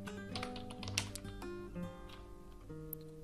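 Code being typed on a computer keyboard, a steady run of quick, close key clicks under a faint music bed with no talk.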